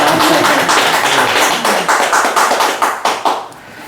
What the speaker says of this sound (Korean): 선생님 수고하셨는데 박수 한번 칩시다.